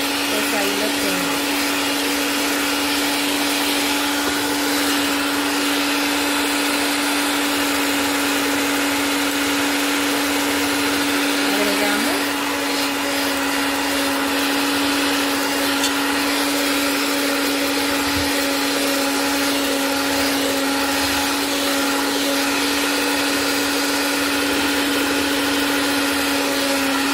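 An electric mixer beats dough for pan de nata, giving a loud, continuous motor whine that holds steady for the whole stretch.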